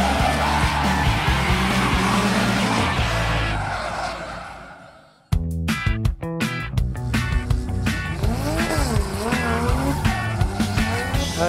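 Drifting cars at a motorsport event, loud engines roaring and tires squealing continuously, with a brief drop near the middle before a car revs back in with sharp bursts, rising engine sweeps and sustained squeal throughout.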